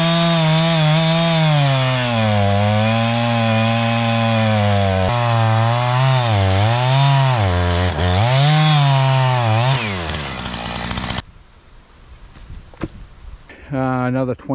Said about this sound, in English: I always cut the stump down as far as I can with a chainsaw.